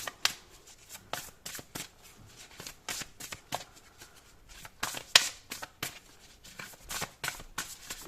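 Tarot cards shuffled by hand in a quick close stream of soft flicking slaps with a few louder snaps, steady for several seconds and with no voice.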